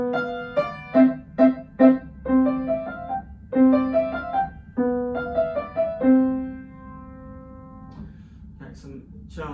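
A piano plays a piece, with clear, close single notes and short phrases in a lilting rhythm. The playing stops near the end.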